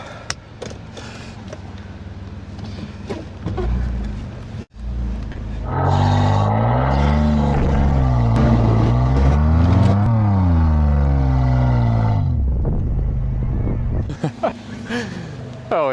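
A car being driven out of a hole revs hard, its engine rising and falling in long, loud sweeping tones for several seconds after an uneven start, with people talking over it.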